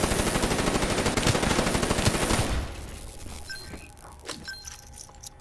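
Gunfire in Call of Duty Black Ops III, a loud, dense burst of rapid automatic fire for about two and a half seconds that cuts off, leaving quieter game ambience and scattered small clicks.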